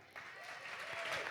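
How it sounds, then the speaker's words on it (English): Brief burst of audience applause at a tech conference keynote, many hands clapping together and building in loudness, with a faint whistle or cheer above the clapping. "let's just give a big round of applause and thank you to Contentful"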